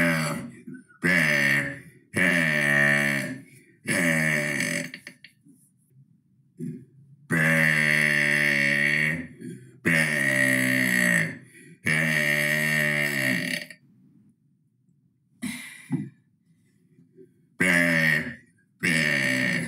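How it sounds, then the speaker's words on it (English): A long run of loud, drawn-out burps, each a deep, rumbling belch lasting a second or more, separated by short pauses of silence, with no talk between them. "let's get into the burps."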